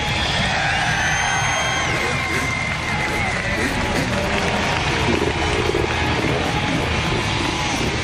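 Crowd cheering and whooping at a freestyle motocross event, a loud continuous roar of spectators mixed with engine noise and announcer talk throughout.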